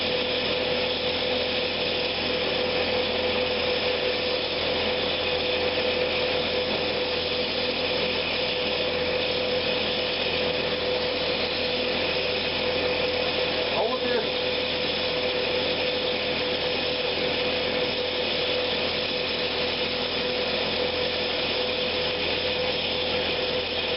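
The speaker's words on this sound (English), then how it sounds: "I'm just going to start working on this hollowing out the box part." A woodturning lathe hollows a wooden winged box with a 3/8-inch bowl gouge, a steady, continuous whirring hum with rough cutting texture that holds an even level throughout and has no talk.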